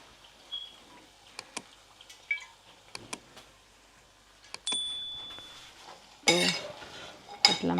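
Chickpeas tipped into a pan and stirred while cooking: scattered clinks and scrapes of a spoon against metal, a short hiss, then louder bursts of sizzling as they hit the hot oil.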